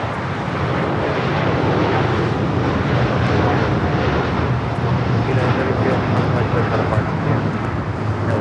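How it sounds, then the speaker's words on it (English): A United Boeing 757-200 jet airliner arriving from Newark lands on runway 25 left at LAX, giving a steady, loud, broadband jet roar that holds even throughout without clear peaks. "That United 757-200 coming in from Newark."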